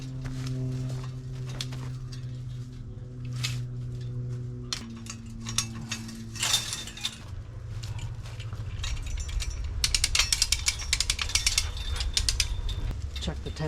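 A hand-operated come-along ratchet tightens chain link fence fabric on a post, its pawl clicking in quick, rough runs that grow louder near the end, after an earlier stretch of steady humming and scattered clanks.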